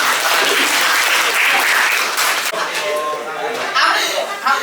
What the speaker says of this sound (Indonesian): Sekali lagi tepuk tangan untuk kita semuanya.